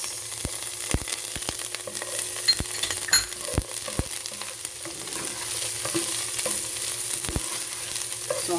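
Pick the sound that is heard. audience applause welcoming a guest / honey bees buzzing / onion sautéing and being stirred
onion sautéing and being stirred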